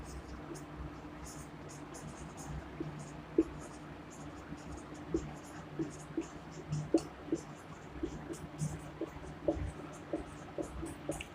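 Chalk or marker taps and scratches across a board as points on alternating current are written up in a classroom, faint, intermittent strokes and clicks over a low room hum, with no talking heard.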